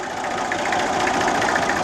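Massey Ferguson 35X tractor with a Perkins AD 3.152 three-cylinder indirect-injection diesel engine running steadily, a close, even mechanical drone with a fine rapid knocking pulse and no voices.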